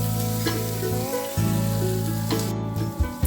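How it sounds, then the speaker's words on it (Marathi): Capsicum fries in hot oil for a triple egg omelette, a loud close sizzle with steady hissing and a constant humming drone throughout. "टोमॅटो भाजल्यानंतर शिमला मिरची भाजून घ्यायची"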